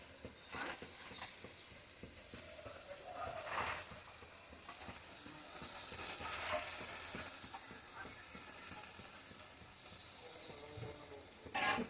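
Malabar spinach cooking in mustard-poppy paste, a steady sizzle building in the pan with soft scraping of a spatula stirring the leaves, continuous and fairly close, no voices.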